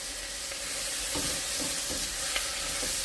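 Marinara sauce in a hot pan with oregano, parsley, basil and bay leaves being stirred through, a steady close sizzle under several soft scraping strokes of a spoon, with no voices.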